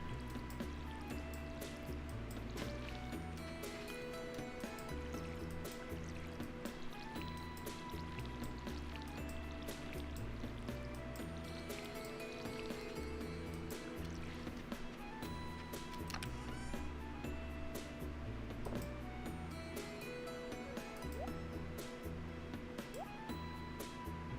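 A watering can splashes water onto crops in Stardew Valley, a soft pouring trickle that stays low beneath the game's steady background music.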